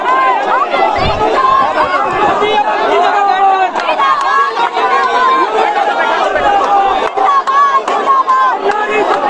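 A big crowd of young people gathers at a rally, a loud, close hubbub of many overlapping voices and shouts that continues without pause.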